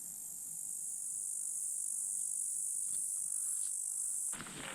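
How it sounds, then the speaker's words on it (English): Crickets and grasshoppers chirp in a steady, dense high-pitched drone outdoors at an ancient ruined brick city, continuous and fairly loud, ending with a brief rustle. "there's just huge grasshoppers, crickets maybe, flying around"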